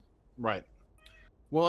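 A cat gives a faint, short meow in the background between a man's spoken words.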